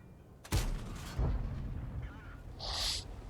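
Foch 155 tank destroyer firing its cannon in World of Tanks, a sharp, loud blast at half a second, a second heavy thump soon after and a trailing rumble, then a brief hiss near the end.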